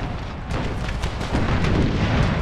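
Cannon fire in an American Civil War mod for Empire: Total War, artillery booming over a dense battlefield rumble, with a heavy shell blast swelling in the second half.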